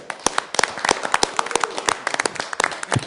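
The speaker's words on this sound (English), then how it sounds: "So I think Kenny deserves a round of applause." A room full of people clapping at a city planning commission meeting in Sioux Falls, dense and steady, with sharp individual claps standing out, fairly close and loud.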